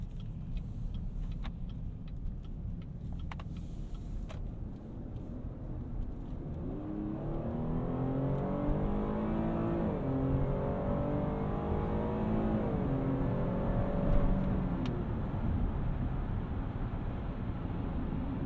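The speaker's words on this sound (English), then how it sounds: "for as heavy as the vehicle is, that accelerates pretty solid, actually" A 2021 GMC Acadia AT4, a heavy SUV, accelerates hard up a highway on-ramp, its engine note climbing steadily in pitch through the gears, heard from inside the cabin over constant road and wind noise.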